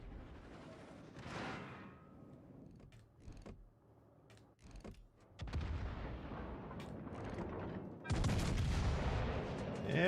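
Warship guns booming in World of Warships Legends: several deep, heavy salvos with rumbling tails, separated by quieter mechanical clatter, the loudest blasts coming in the second half.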